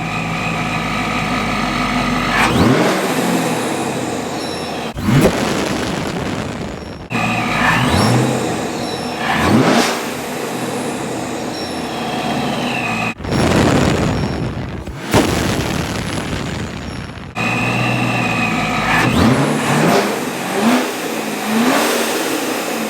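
A procharged Chevrolet Camaro SS V8 fires up and revs hard in repeated loud bursts, with the engine dropping back between pulls and several abrupt cuts, close and alone with no talk.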